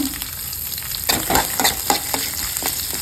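Onion, dal, red chilli and curry leaves frying together in hot oil give a close, steady sizzle, with repeated scraping stir strokes and spoon clinks through the clip.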